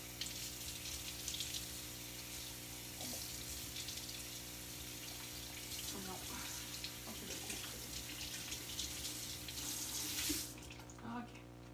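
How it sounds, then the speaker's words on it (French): A faucet runs steadily as a rubber stamp is rinsed under the tap while decorating a small notebook, a continuous faint hiss of water with occasional splashes and clinks near the end. "Attendez, je vais juste le passer un petit peu sur l'eau."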